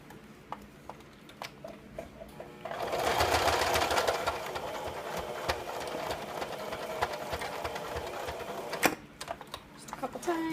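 Sewing machine stitching elastic into the seam allowance of a cloth pocket diaper, a steady fast mechanical whir after a few light clicks, running continuously near and fairly loud.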